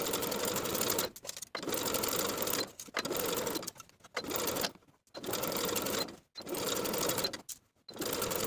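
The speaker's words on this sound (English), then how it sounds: "Sew the sleeve into the armhole with a 5/8 inch seam allowance and finish the raw edges together" A sewing machine stitches a sleeve into a dress armhole, running in several loud bursts of steady whirring broken by short pauses.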